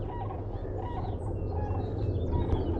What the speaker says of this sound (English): You can hear the sand cranes.